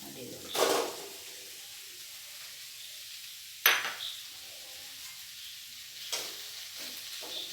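Boiled potatoes are stirred into fried onions in a pan, giving three separate bursts of scraping and sizzling with quiet gaps between them, heard close up.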